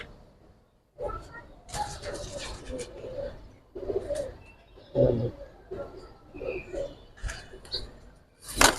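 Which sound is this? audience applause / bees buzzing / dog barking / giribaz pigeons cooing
giribaz pigeons cooing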